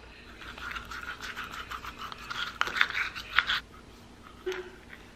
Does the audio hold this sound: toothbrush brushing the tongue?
yes